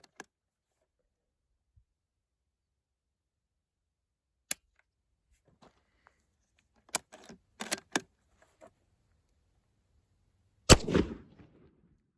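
Ethiopian surplus 8mm rifle ammunition fired at an outdoor range, heard as sharp, isolated cracks at irregular intervals, some faint and distant and several louder and closer, ending with one loud report that rings out briefly.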